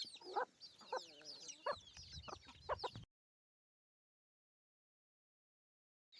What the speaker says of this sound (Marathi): हे बघा मित्रांनो माझ्या सर्व कोंबड्या करतायत घोळण